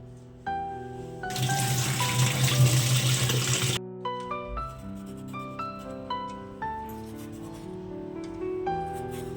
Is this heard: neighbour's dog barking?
no